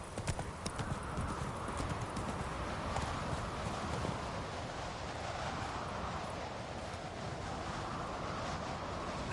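A horse's hooves clip-clop steadily in The Witcher 3 video game, a continuous walking rhythm of mid-distance hoofbeats over outdoor ambience.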